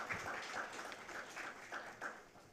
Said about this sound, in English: can we have a round of applause before we begin this day?